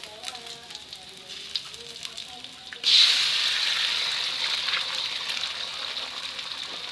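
Eggs dropped into hot oil with sliced shallots and garlic in a pan, a quiet faint crackle that bursts into a loud, steady hiss and sizzle, with no one talking.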